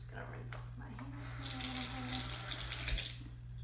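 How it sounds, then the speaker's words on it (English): A kitchen or bathroom tap runs steadily while hands are rinsed under it, a close, continuous splashing hiss of water over a low background hum. "I'm just gonna rinse off my hands"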